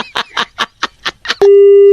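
Steady telephone tone after a prank call is hung up, a single loud continuous hum that follows a quick run of short chattering voice bursts.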